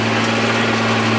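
A John Deere 8100 tractor engine runs steadily while disc ripping wheat stubble ground with a Brent disc ripper, producing an even, continuous droning hum with no talking.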